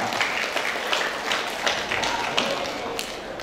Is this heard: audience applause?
yes